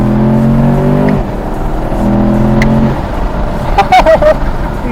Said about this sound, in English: that's the fastest car I've ever launched right there